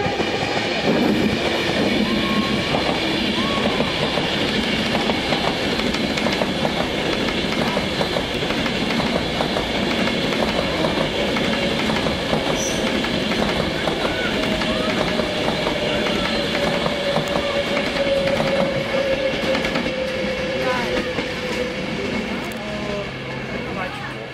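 A steady rumble of a train on rails, with continuous clattering and a faint high wheel squeal, heard from nearby for a long stretch without letup.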